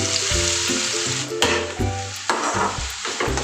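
Onions and whole spices (cinnamon, cloves, cardamom, bay leaves, sugar) frying in hot oil in a pan, a steady loud sizzle with a few clanks and stirring scrapes, no talking.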